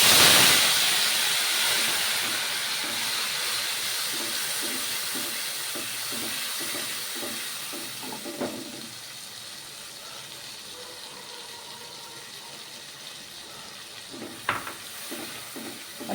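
Spice masala hits hot tempering oil, already holding popped mustard seeds, dried red chillies and asafoetida, with a loud hissing sizzle that slowly fades, broken by occasional soft stirring clicks.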